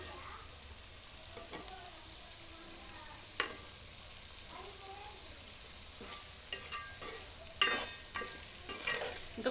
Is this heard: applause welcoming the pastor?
no